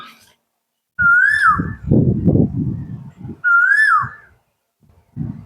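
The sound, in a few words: Asian koel calling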